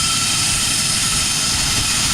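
An aircraft at Aurora Municipal Airport gives off a steady, loud, broadband engine roar that holds evenly throughout, with no voices.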